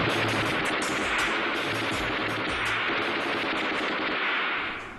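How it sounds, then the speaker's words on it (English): Sustained automatic fire from a ZB vz. 26 light machine gun, a dense, loud stream of rapid shots with no pauses, close and dominating the battle scene before tapering slightly at the end. "Without hesitation, Miao set up his ZB-26 and opened fire."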